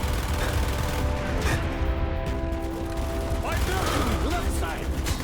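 Mortar blasts and gunfire in the Call of Duty: Black Ops campaign, dense bursts of shots and mechanical clatter over a constant loud battle rumble, with distant voices shouting in the mix.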